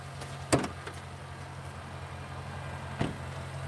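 Hood of a 2021 Jaguar F-Pace SVR being opened, two distinct thuds about two and a half seconds apart over a steady low hum of the surroundings.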